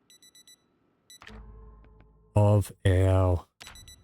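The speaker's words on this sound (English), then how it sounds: "let's just kill that alarm there." An alarm clock in the video game Project Zomboid gives short repeated beeps, then someone speaks loudly over a background tone that fades out.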